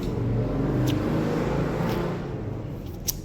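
A 2002 Yamaha F1ZR two-stroke motorcycle on its original exhaust idles and revs up close in a continuous, buzzy engine drone, a little louder early and easing slightly near the end.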